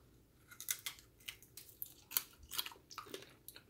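Crunchy mustard-coated fried pork chop being bitten and chewed up close, a series of sharp crisp crunches in an irregular rhythm, fairly loud with no talking.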